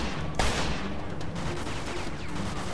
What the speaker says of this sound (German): Oh, da hat eine automatische Waffe.